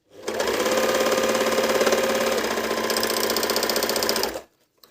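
A Medion MD10685 budget overlock sewing machine runs steadily at speed for about four seconds, a loud, even, rapid whirring chatter that starts and stops abruptly, with no talking.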